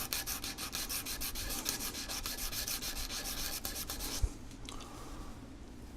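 Hand sanding of a small plastic scale model part, such as a gun barrel, with a steady close scratchy rubbing that runs continuously before thinning out near the end.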